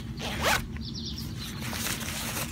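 A zipper on the back compartment of a Marmot Kompressor Plus day pack is pulled open in one quick, close rasp, followed by quieter handling and a brief second zip.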